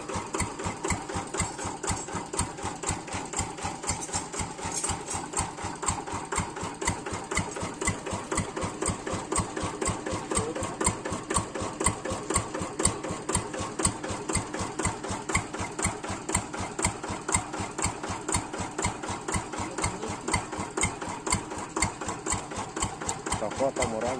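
A new hand tractor's small engine idles steadily and close by, its fast chugging pulse unchanged throughout, with people talking now and then over it.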